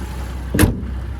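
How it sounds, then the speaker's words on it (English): A single sharp clunk from the hood release of a 2015 Porsche Macan S with its 3-liter twin-turbo V6, one brief close thump over a steady background hum. "just gonna pop the hood"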